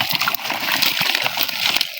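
Half a basket of freshly caught fish gets tipped out with water, a brief burst of sloshing and splashing liquid, close and fairly loud.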